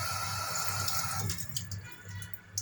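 Tap water runs over rice being rinsed in a strainer, a close steady hiss that thins out midway into lighter trickles and drips.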